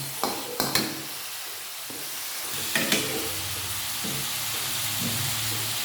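Quail eggs sizzling in a hot pan with a few sharp clatters of a utensil stirring early on, then a steady crackle.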